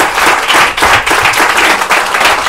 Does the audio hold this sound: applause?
yes